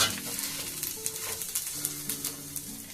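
Coconut and semolina frying in a pan as filling for gujiya, stirred with a soft sizzle and repeated quiet scraping of the spoon, no talking.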